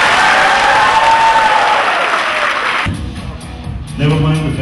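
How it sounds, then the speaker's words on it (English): Loud audience applause at a glam dinner-and-dance night, a dense roar of clapping that fills the first few seconds, then drops sharply and gives way to lower crowd noise and cheering. "And this should be the loudest. One round of applause for everyone."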